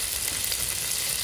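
Brief burst of tomato frying in a pan with onion and garlic for a fish curry, a dense even sizzling hiss lasting about a second, fairly loud with nothing else over it.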